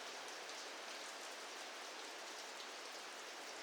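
Heavy rain pours down in a steady, even, wash-like hiss that fills the whole stretch without breaks, close and unvarying, with no other sounds standing out.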